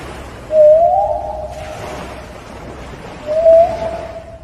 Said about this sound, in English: gray whales communicate through systems of clicks, grunts, and whistles